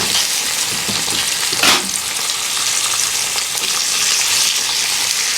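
Bacon hitting a hot griddle for homemade teppanyaki with pork belly and chicken wings, giving a steady loud broadband sizzle throughout with a brief sharper crackle burst near the two-second mark, no talking.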